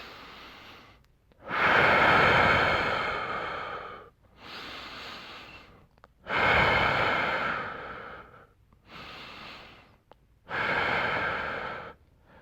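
Deep, slow breaths taken during a floor mobility workout, three long noisy inhale-exhale cycles, each lasting about two seconds with quieter pauses between, close and fairly loud with no talking.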